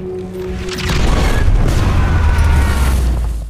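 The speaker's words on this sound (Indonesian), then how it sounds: "Sebuah meriam Basilika meledak." A huge deep boom erupts and rolls on as a long rumbling roar, loud and heavy, as a giant Basilica siege cannon explodes.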